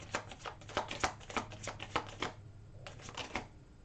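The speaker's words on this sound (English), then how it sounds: "Let's take out the rest of your cards." Tarot cards shuffled by hand in a rapid run of crisp riffling flicks and slaps, then a pause and a few softer card snaps, close and fairly quiet.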